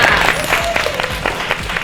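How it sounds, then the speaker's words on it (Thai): Loud, dense audience applause for a contestant named Peach at a GMMTV Pocky idol workshop, many hands clapping together with crowd noise, close and continuous throughout. "ปรบมือให้กับน้องพีชค่ะ"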